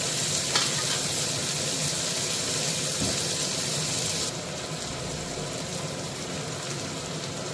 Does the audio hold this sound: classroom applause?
no